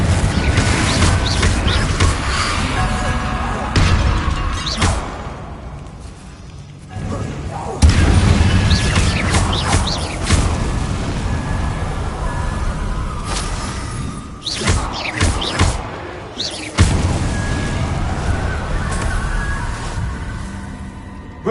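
Confringo fire-blast spells explode repeatedly in combat in Hogwarts Legacy, with booming, crashing bursts and shattering debris over a loud, continuous game soundscape.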